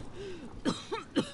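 An enemy soldier in Call of Duty Modern Warfare gives a few short coughs in quick succession, heard faintly in game audio with no talking.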